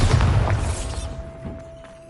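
Bombarda blasting spell going off in Hogwarts Legacy, one sharp booming explosion with shattering debris that fades out over about two seconds.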